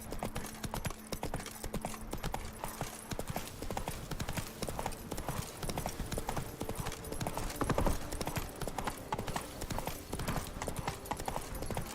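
Horse hooves clip-clop steadily at a riding pace in The Witcher 3 video game, a continuous rhythmic trot over a busy game background with a brief whinny-like voice.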